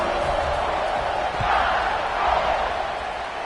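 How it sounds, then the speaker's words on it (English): A large stadium crowd in the NCAA 26 football video game buzzes steadily after a touchdown, a dense continuous roar of voices with a slight swell midway and no distinct individual calls. "this crowd is buzzing after that last score"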